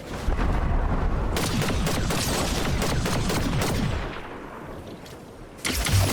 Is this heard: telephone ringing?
no